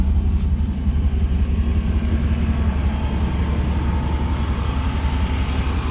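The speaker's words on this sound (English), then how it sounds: "we're gonna crank the truck up and let it run for a minute" A Chevy C/K1500 pickup truck, 1996 to 1998 model, idling steadily after a new mass airflow sensor is fitted, a constant low engine rumble heard close and alone throughout.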